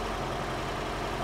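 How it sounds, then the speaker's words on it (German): A truck engine idles in the World War I game 1914 The Great War, a steady low rumbling drone held evenly throughout with no voices. "Motor läuft!"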